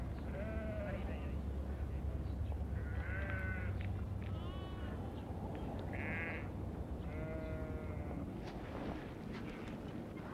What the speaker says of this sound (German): Von fern ist nur noch das leise Blöken der Schafe zu hören.